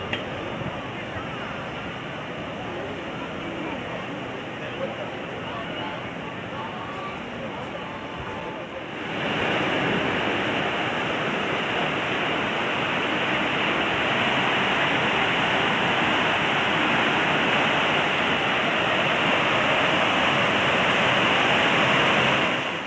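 Seawater at a seawater swimming pool in Puerto de la Cruz, Tenerife: a steady broadband rush of surf or pouring water, fairly loud throughout and swelling louder and denser after the first third, with no talk heard.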